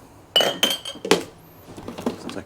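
Clean ceramic mugs being handled at a hotel room tea and coffee station, giving several sharp clinks and knocks in quick succession, close and fairly loud, followed by softer rattles and no talking.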